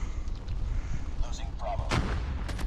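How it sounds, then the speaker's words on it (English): Hip-fire gunshots ring out in the mobile shooter game Call of Duty Mobile, quick sharp bursts over steady game background noise, with one louder crack near the end. "Just shoot it directly across the enemy and kill them like this. That's a hip fire."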